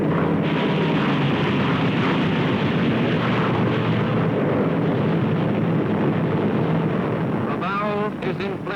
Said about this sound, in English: Japanese airplanes get off the ground.